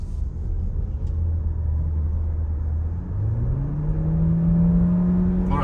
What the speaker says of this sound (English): So now we will test the full throttle.